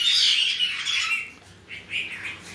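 Pet birds eating grapes give loud, close squawks and rough chirps, a dense burst at first, then a few shorter calls with small pauses between them.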